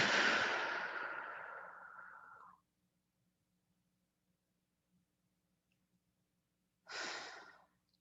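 Two deep breaths during a guided meditation, each a soft airy exhale close to the mic, the first long and fading, the second shorter after a quiet pause.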